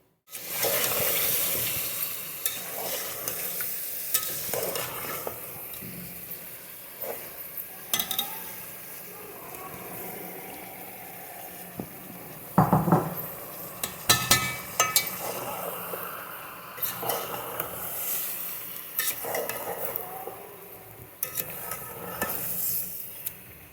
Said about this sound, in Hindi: यहाँ पर प्याज डाल के बिरयानी बना रहे हैं हम